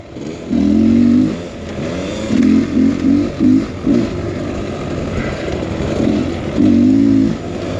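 A Beta X Trainer dirt bike rides through sandy desert whoops, its two-stroke engine rising and falling in repeated revving bursts as the rider works over the bumps, loud and close under steady wind noise.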